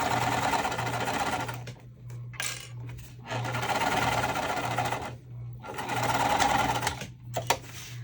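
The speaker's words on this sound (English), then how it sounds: "you'll see the difference sewing with this Teflon foot really makes for my machine when I'm sewing waterproof canvas" Sewing machine fitted with a Teflon foot stitching waterproof canvas, running in three quick bursts of rapid mechanical chatter with a steady hum, separated by short pauses, plus a small clink near the end.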